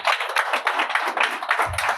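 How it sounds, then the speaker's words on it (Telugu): A church congregation claps loudly and rhythmically in unison during a Telugu sermon on preaching the gospel, sharp close hand claps repeating in quick even beats, with a low thump near the end. "గట్టిగా చప్పట్లు కొడుతూ మహిమపడదాం."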